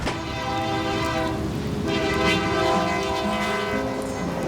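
A train rolls past up close in falling snow while a moved house waits near the tracks, its horn blaring in long sustained tones over a steady rumble and clatter of the cars throughout.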